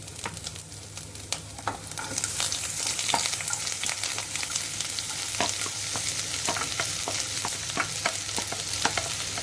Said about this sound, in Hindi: इसमें अभी हम डाल देंगे प्याज और लहसुन। हरी मिर्च भी साथ में डाल देंगे।